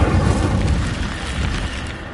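Incendio fire spell cast in Hogwarts Legacy, a loud whooshing burst of flame that roars steadily and slowly fades over a couple of seconds.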